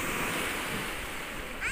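Sea waves at a busy swimming beach, a steady, close wash of surf and water noise with a faint wind rush, continuous and without any clear talk.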